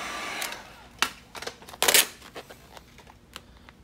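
A heat gun blows warm air over tint film being applied to a 2015+ Dodge Charger tail light, heard as a soft rushing hiss with a few sharper crinkling and rustling bursts of film handling in a quiet indoor space.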